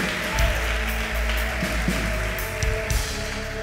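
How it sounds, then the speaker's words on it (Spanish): A church congregation applauds during a sermon, a dense wash of clapping over a sustained musical backing, fairly loud and continuous across the short stretch. "Dale un aplauso al Señor por eso"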